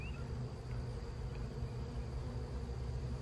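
Honeybees buzz steadily around a queen outdoors, a faint, continuous droning hum without breaks, heard alone with no talking over it.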